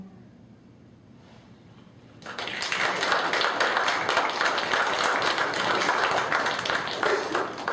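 Audience applause after a high school young writers' reading, starting abruptly after a quiet pause and settling into steady, dense clapping from a full room that continues to the end.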